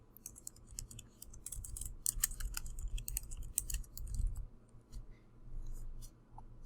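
Quiet, irregular bursts of key clicks from typing on a computer keyboard, with short pauses between runs of keystrokes and a faint low background hum.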